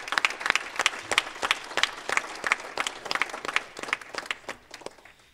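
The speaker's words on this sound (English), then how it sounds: "Let's give them a round of applause again." At a Martin Luther King luncheon in Dunkirk, New York, a room of guests gives a round of applause, with brisk, dense clapping at moderate volume that thins out and fades toward the end.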